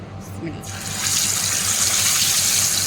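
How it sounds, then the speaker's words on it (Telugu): Masala-coated fish frying in hot oil gives a steady, broad hiss that swells and stays loud, with a low hum running underneath. "చేప అనేది బాగా ఫ్రై చేసుకోవాలి"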